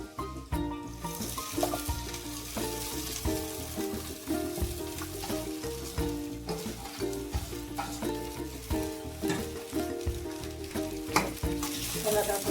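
Poha (flattened rice) sautéed in a pan, continuous close sizzling with rhythmic spatula scraping and stirring strokes against the pan, loud and steady with no talking.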